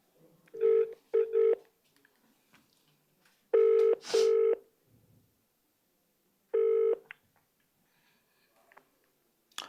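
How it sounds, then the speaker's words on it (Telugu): An outgoing telephone call rings through, with a pair of short electronic tone bursts followed by two more single repeats, spaced by quiet gaps and fairly close. "ఒక్కసారి అనసూయ గారికి కాల్ చేసే ప్రయత్నం చేద్దాం."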